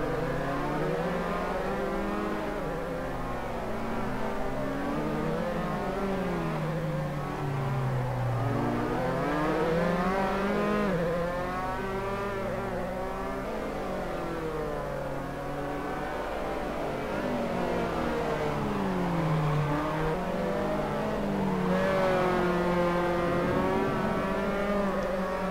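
Formula 3 racing cars in Assetto Corsa howl continuously at the Norisring, engine pitch sweeping up and down through gear changes as several cars run close together, loud and steady for the whole stretch.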